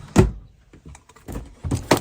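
A small tool drawer in a Northern Lite truck camper slides open with a sharp thunk, followed by light rattling of its contents and a couple more knocks, close and fairly loud with no talking.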